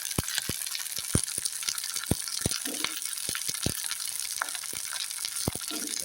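Mustard seeds, cumin, garlic and onion fry in hot oil for a garlic kuzhambu, a soft continuous sizzle broken by sharp popping crackles from the seeds, close up and fairly quiet.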